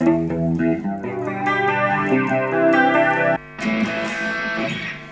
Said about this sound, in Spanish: ahí estamos probando un poquito los overdrives que trae.